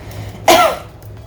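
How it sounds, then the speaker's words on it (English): A patient during a pap smear gives one single short, close cough that fades quickly into quiet room tone. "One more cough."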